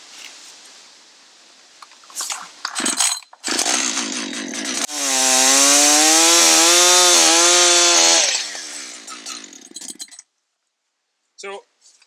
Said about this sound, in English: So I'm going to start up the saw, and I'm going to cut this off right here